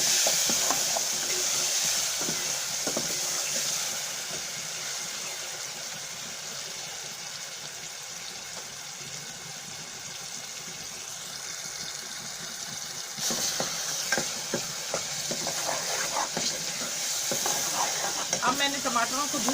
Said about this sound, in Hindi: अब टमाटर को मैं थोड़ी देर भून लूंगी।